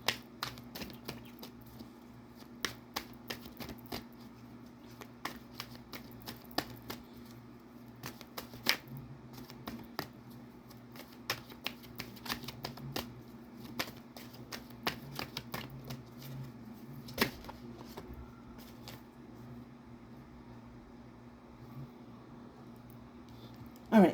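Tarot cards are shuffled in quick, soft riffling bursts and flicks, close and fairly quiet, repeating irregularly over a faint steady hum, no talking.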